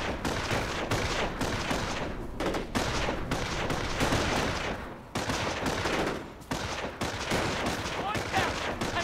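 Dense gunfire rolls through a Company of Heroes battle, rifle and machine-gun bursts crackling almost without pause, loud and layered with brief lulls, while voices sound underneath.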